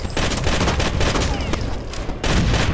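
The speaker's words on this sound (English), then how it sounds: "I just shot and got a headshot" Rapid gunfire in Rainbow Six: Vegas Terrorist Hunt, a dense, loud, continuous fusillade of overlapping shots with a brief dip before a final burst, no talking.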